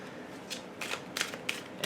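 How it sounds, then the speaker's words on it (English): A tarot card deck being shuffled, giving soft papery riffling bursts in several short clusters, close and fairly quiet with no talk. "So let me just shuffle."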